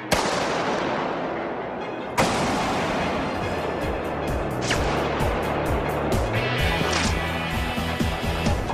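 Rifle fired in a projectile physics test outdoors, a sharp loud crack at the start and another a couple of seconds later, followed by rumbling noise and faint scattered sounds.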